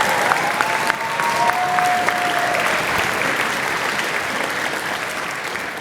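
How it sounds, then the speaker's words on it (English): An audience at a middle school spring band concert applauds loudly and steadily, a dense wash of clapping with a few cheers that stays strong throughout and tapers only slightly at the end. "So one round of applause to the staff and the principals and administrators out there."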